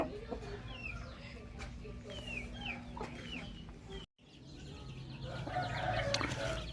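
Gamecocks kept for display cluck and crow in short repeated calls around a farmyard, with a steady low hum of background noise beneath them.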